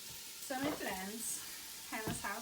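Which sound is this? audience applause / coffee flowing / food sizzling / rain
food sizzling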